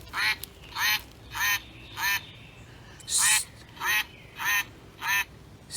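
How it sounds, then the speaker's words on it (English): A series of nasal, raspy duck quacks from a squeezed toy, evenly spaced, about eight in a row, close and clear. "I'm going to squeeze it, and it makes the sound that a real mallard duck makes"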